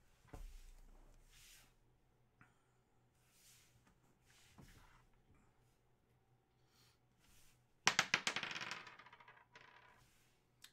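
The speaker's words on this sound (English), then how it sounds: "All right, let's roll the dice and see what we, what box you're going to do." Dice rolled during a hockey card box break, with a short burst of rattling clicks and clatter near the end, preceded by quiet handling noises in a hushed room.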